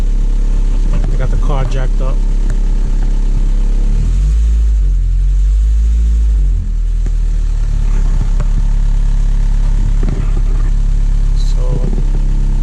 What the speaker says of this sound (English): That noise you're hearing is the emergency brakes.